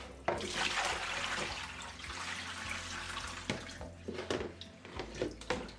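Running tap water splashing into a sink, with intermittent sloshing and clinks as a mackerel is rinsed under the flow.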